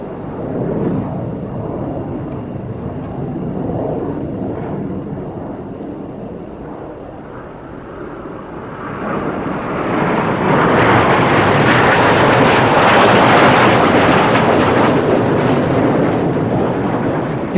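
Jets of the Italian Air Force aerobatic team pass over an air show, a broad roar that swells from a distant rumble to a loud, sustained rushing noise over the final seconds.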